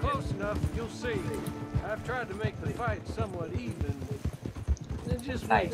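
Horse hooves clip-clop at a steady gait during a ride in the Red Dead Online video game, heard beneath continuous conversation between players.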